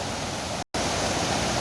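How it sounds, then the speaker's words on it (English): A waterfall in Kumrat valley, Pakistan, gives a loud, dense, unbroken rush of falling water heard close up, cut by a brief dropout partway through. "I'm going to take you further, have a closer look at this waterfall"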